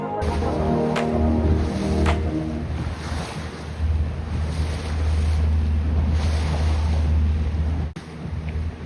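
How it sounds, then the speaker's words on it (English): Small RIB boat pounding through rough water on a Scottish loch, wind against tide, with loud continuous wind buffeting and engine drone, spray and wave slaps throughout. "It was wind against tide and it got very, very rough for a little sib."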